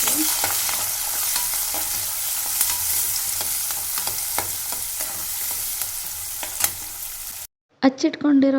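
Curry leaves and onion frying in a pan, a steady close sizzle with repeated spatula scrapes and taps, ending abruptly in a short burst of different sound.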